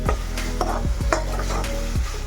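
Spice masala stirred with a spoon in a frying pan of sizzling tomato and onion gravy for mixed vegetable bhaji, steady frying hiss with repeated scraping strokes across the pan, close and alone.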